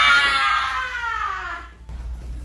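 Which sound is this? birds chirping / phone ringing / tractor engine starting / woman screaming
woman screaming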